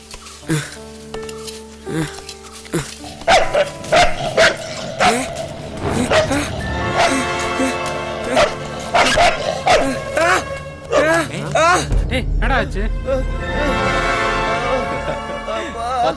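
A dog barks repeatedly in sharp, loud bursts, joined by yips and whimpers, with voices talking over and between the barks in an outdoor scene.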